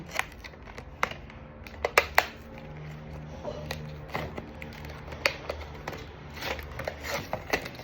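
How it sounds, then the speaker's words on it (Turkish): A football trading card box is opened, bringing close crinkling, tearing and cardboard clicks in irregular bursts, with no speech. "bugün sizlerle birlikte kart açılış videosu yapıyoruz"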